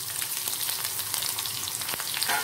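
Chopped sambar onions fry in hot oil for radish sambar with a dense, continuous sizzle, close and steady, with a few light utensil ticks.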